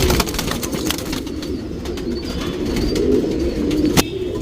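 A male Dhumal pigeon coos softly and close by, a low continuous murmur of cooing against steady background noise.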